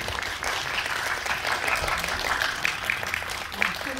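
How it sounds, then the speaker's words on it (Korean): Applause from a theater audience welcoming the cast of the film Kingmaker onto the stage for a greeting, steady crowd clapping at moderate loudness with some voices faintly mixed in. "큰 박수로 맞이해 주세요."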